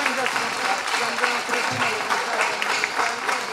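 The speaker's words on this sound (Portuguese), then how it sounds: "Um forte aplauso, Grupo de Danças e Cantares de Barcelos." An audience claps warmly for the Grupo de Danças e Cantares de Barcelos at the opening ceremony of a folklore festival, with dense, steady applause throughout and faint voices mixed in.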